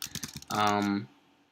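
Quick clicks of typing on a computer keyboard, a brief run of close, light keystrokes followed by a short burst of voice.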